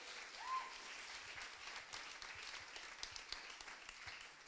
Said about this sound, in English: Could we have a round of applause for the family who has been a terrific host?